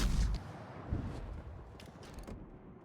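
Heavy naval guns fire in World of Warships, a deep booming salvo opening loudly and then rolling away, with a second thud and a few sharp mechanical clanks trailing off afterward.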